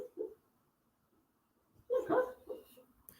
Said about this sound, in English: My dog barking in his sleep.